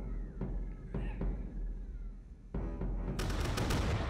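Cannon fire in the video game Totally Accurate Battle Simulator during a 15-versus-15 cannon battle, several sharp booms in the first seconds, then a dense, loud continuous barrage.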